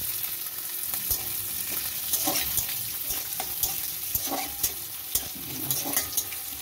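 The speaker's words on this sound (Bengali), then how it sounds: "আমি পেঁয়াজ কুচি দিয়ে দিচ্ছি।" Chopped onion sizzles in a pan with cumin, a close, continuous frying crackle broken by repeated spatula scrapes and taps as it is stirred.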